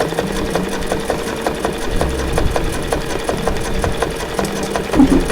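A sewing machine stitches dense stippling into fabric for a sea turtle coin pouch, its needle tapping in a steady fast rhythm with a low motor whir underneath, close and continuous.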